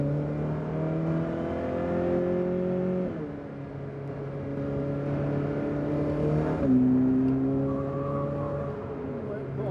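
A car accelerating around a track, its engine droning in a rising tone with two quick shifts and a renewed climb, heard from inside the cabin with some talk.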